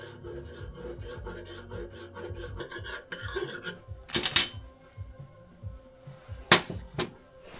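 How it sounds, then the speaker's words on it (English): A metal file scraping flat across JB Weld filler on a hydraulic cylinder rod, with a run of close rasping strokes followed by a few sharper scrapes and knocks. "to quickly remove excess materials, I start off with a file"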